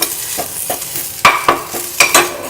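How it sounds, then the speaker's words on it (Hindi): Curry leaves are dry-roasted in a pan for idli dosa gunpowder chutney powder, with close, rhythmic stirring scrapes over a light sizzle that grow sharper toward the end. "अब हम ये करी लीव्स, इनको भी भून लेंगे।"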